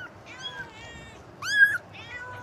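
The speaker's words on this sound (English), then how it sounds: "Look at these kittens, so cute." Close by, kittens give several thin, high-pitched meows, and one longer, louder cry rises above the others against a quiet, faintly noisy room.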